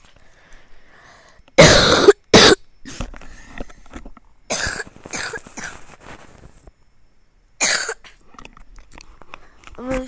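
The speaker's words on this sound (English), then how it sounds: "I'm really sorry guys about my cough." A person coughs harshly two or three times in close succession during a Roblox Jailbreak game session, loud and close, with a softer cough later and quiet game sounds between.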